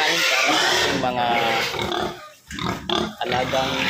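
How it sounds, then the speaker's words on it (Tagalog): Sows grunt and oink loudly and closely while being fed, with a person talking over the noisy, crowded snorting. "alagang inahin o baboy"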